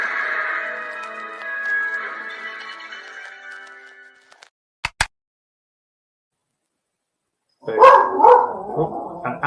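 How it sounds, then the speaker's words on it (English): A pet dog barks excitedly in a room, a run of loud, close barks and yips at the end after a stretch of television sound and a short silence. "my dog goes crazy and starts barking."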